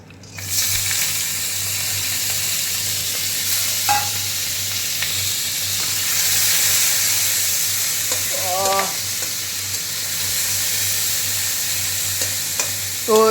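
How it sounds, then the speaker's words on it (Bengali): Tomato, cashews, ginger and melon seeds frying in a pan for shahi paneer, a steady loud sizzle with occasional stirring scrapes and clinks running throughout. "এর মধ্যে আছে টমেটো কাজু বাদাম তারপরে হলো গিয়ে তোমার আদা যেন চালমগজ এগুলোকে আমরা ভালো করে ভেজে নেব"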